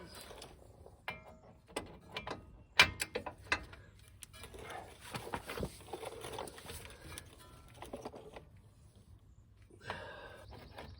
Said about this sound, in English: All right, go get the torque wrench. All right, torque them down to 90 foot-pounds.